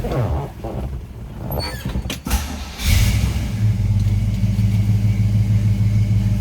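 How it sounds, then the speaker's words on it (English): A 1970 Chevrolet C10 pickup truck cranks briefly and fires up, then settles into a loud, steady idle close by, after some earlier clunks and handling sounds. "We're going to go ahead and start this up so you can check out the engine bay, hear the engine run, and snoop that over."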